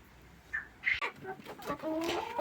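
Shrill, loud quail calls in short bursts, several squawks and chirps close by, excited poultry-like clucking with faint background noise.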